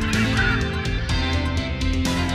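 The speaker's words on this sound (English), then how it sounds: "Seagull have a harsh wailing or squawking call." Harsh, honking seabird calls from a seagull repeat in close succession, loud and near, the squawks forming a continuous raucous chorus with no other sounds.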